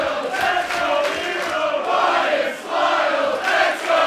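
A packed professional wrestling crowd roars and chants in loud, surging waves, voices rising and falling together with no commentary over the noise.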